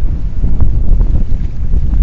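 Strong wind buffets the microphone during a solo fishing outing by the water, a loud, continuous low rumble with gusty surges across the whole stretch, no voices heard.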